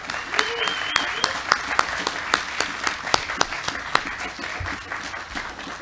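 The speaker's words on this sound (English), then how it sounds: "if you can join me giving them a round of applause" A crowd applauds at a ship keel laying ceremony for the NSMV IV training ship Lone Star State, sustained steady clapping from many hands throughout, with sharper individual claps standing out near the front.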